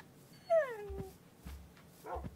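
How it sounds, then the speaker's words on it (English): Minecraft dogs whimpering in a video game, a high, falling whine followed by a few short, soft yips and whimpers, close and fairly clear with no talk. "the dogs keep making pitiful noises"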